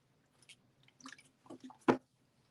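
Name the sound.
person drinking water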